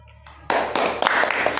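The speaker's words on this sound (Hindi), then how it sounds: "ताली बजाएं" A classroom of students claps their hands together on the teacher's instruction, a sudden burst of many hands striking at once that carries on in uneven, close, fairly loud claps after a brief quiet lead-in.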